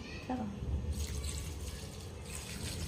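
Water poured into a pressure cooker holding tomatoes, green chili and dill, a short splashing gush that runs steadily for a few seconds, close and fairly quiet.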